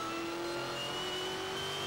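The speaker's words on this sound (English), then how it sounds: "Big 5-litre V8 engine." A Ford GT race car on 777 Falcon tyres with a big 5-litre V8 rips past at the Nürburgring 24-hour race, a steady high-pitched engine whine holding loud and close for about two seconds.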